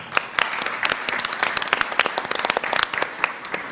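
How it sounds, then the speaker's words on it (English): Applause at a school board meeting, a room of people clapping steadily and fairly close, with dense overlapping claps that carry on without pause through the whole stretch. "We have one of the leaders here, Jackson Calhoun, who I really just want to give a round of applause"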